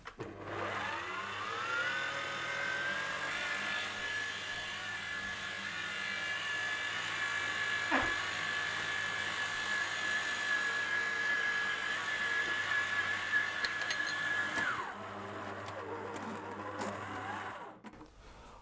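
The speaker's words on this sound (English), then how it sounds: "now the blender is going to go on itself for 5 minutes" A stand mixer kneading brioche dough runs as a steady, loud whirring motor hum with a whining high tone, continuing for about fifteen seconds before shutting off and winding down.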